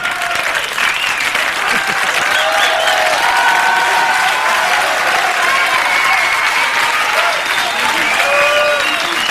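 Loud, sustained audience applause at the César award ceremony, a dense wash of clapping hands that fills the room steadily for the whole stretch.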